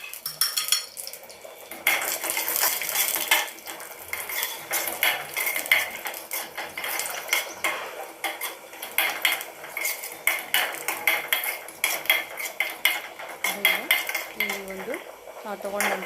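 Cashews being stirred in homemade ghee for bisibele bath, with a metal spoon scraping and clinking against the pan in a busy, irregular rhythm, close and fairly loud, and faint frying underneath.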